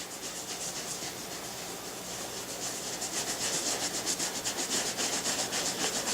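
Rag rubbing boot cream into a leather cowboy boot, a steady close scrubbing swish that grows slightly stronger and more rhythmic toward the end, with no talking.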